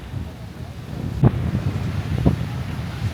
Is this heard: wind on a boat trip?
yes